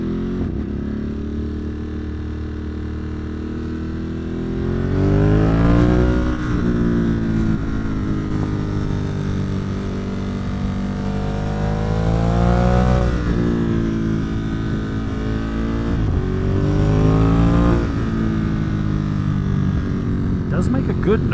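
A motorcycle engine accelerating on a road, recorded close from the rider's position, its rising and falling revs droning loudly and continuously, with swells in pitch as the throttle opens.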